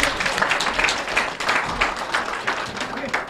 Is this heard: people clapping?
yes